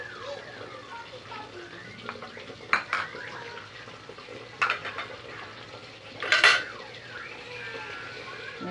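Vegetables like lemongrass, long chilies, ginger, tomato and onion are stirred in a pot, making soft scraping and knocking sounds, with a few louder clanks of a utensil against the pot above a low, steady background.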